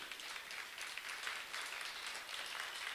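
A seminar audience claps steadily to welcome the day's teacher, Mary, at a mental health session; dense, even applause fills the room from start to finish with no break.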